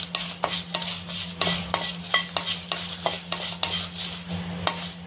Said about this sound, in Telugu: ఈ ఎండు మిరపకాయలు కూడా మరి నల్లగా వేపకూడదు ఫ్రెండ్స్, మీడియంగా వేపుకోవాలి.